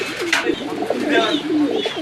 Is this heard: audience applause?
no